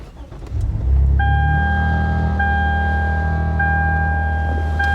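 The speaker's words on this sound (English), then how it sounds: "let's start the car." A Lexus IS250 engine cranks and catches, settling into a steady, loud, low idle rumble with a faint high electrical whine running over it, close by and without talk.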